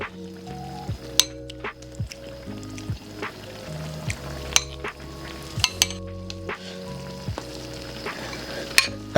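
Korean budae jjigae stew in a pot gives a steady sizzling, bubbling simmer, with occasional light clinks of utensils and tonal background sounds over it, and no talking.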